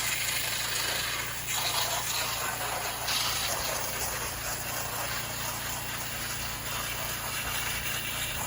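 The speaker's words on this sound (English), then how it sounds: "I'm over here to rinse the back of the barn now" A water hose sprays steadily against the back of a barn, making a loud continuous hissing rush close by that surges slightly at moments and never lets up.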